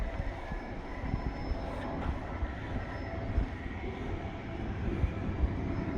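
A heavy two-mile Canadian Pacific freight train hauling loaded cars behind six engines rumbles past in British Columbia, a steady low roar with rattling and clanking wheel noise, fairly loud and continuous.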